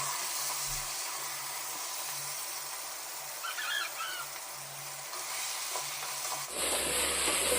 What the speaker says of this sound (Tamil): இப்போ நம்ம கலந்து விட்டுருவோம்.